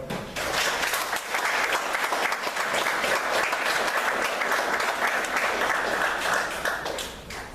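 Sustained audience applause welcoming Congressman David Jolly at an Eckerd College event, a dense steady clapping that swells at once, holds evenly for several seconds and tapers at the end.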